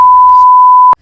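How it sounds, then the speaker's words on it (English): A loud, pure censor beep holds one steady tone for nearly a second, then cuts off abruptly, with faint background noise briefly under its start. "The beep sound was so annoying."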